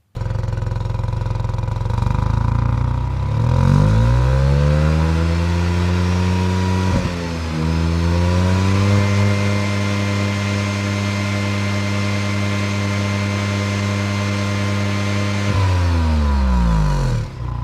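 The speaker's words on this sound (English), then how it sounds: "Let's take a listen to the exhaust note." A Tata Altroz Racer's exhaust rumbles loudly as the engine revs up, holds a high drone for several seconds, then drops back to idle.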